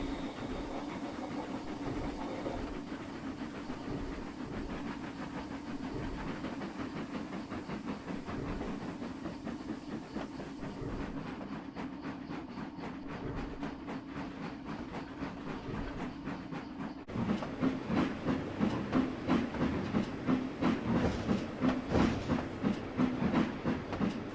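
A steam passenger train pulling out of a station in the Trainz railway simulator, with a steady rumbling engine and rhythmic chuffing that grows louder and more pronounced partway through, continuous and without talk.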